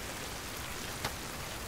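Steady rain falls in a Tamil film scene as an even, continuous hiss of drops with one brief splash in the middle and no talking.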